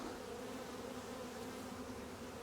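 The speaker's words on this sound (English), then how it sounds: "Good number of bees, more drones than I want." A dense, steady hum of many honeybees and drones buzzing all at once around an opened hive in an apiary, continuous and even, with no voices.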